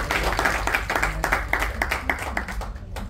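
An audience claps in a burst of steady applause at a Pune stage event, a one-woman play about Savitribai and Jyotiba Phule, fairly loud and continuous before it thins out near the end.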